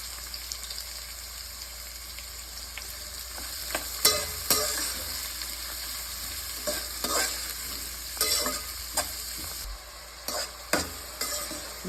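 Onions and cashews frying in a pan for mutton gravy are stirred steadily, with a continuous sizzle and repeated scraping strokes of the spoon, close and fairly loud, with no talk.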